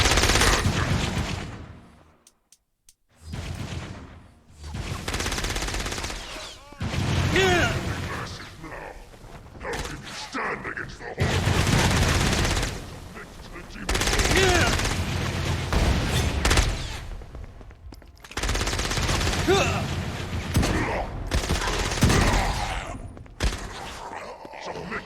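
Gunfire fills a battle in the video game Saints Row: Gat out of Hell, with dense bursts of automatic fire and booms in long loud stretches broken by brief lulls, with voices mixed in.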